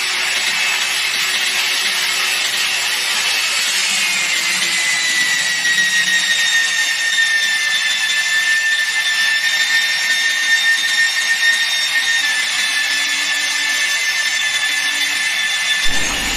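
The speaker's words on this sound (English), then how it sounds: "Press the green button of the drill switch and start to drill" A magnetic drilling and tapping machine cuts a hole with coolant, giving a steady loud high-pitched whine with a slowly shifting tone and faint grinding beneath, continuous throughout without talk.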